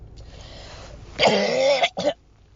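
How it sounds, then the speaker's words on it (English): A single harsh, rasping cough or throat-clearing bursts out close by, followed by a short second hack, with no talking. "I literally keep coughing"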